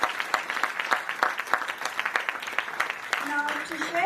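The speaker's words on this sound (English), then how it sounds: "A round of applause for our exceptional valedictorians" An audience at a school graduation ceremony claps for valedictorians, with distinct individual claps in an uneven patter and a voice briefly speaking near the end.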